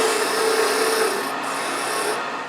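A lathe tool cuts a tenon on a spinning piece of holly wood, giving a steady, close, rasping scrape that holds evenly for a couple of seconds with no voices.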